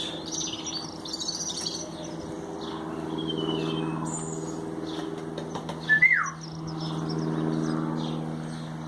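During falconry training outdoors, a golden eagle gives a single sharp, rising-falling call around the middle, heard over steady chirping of small birds, a low mechanical hum and light background noise.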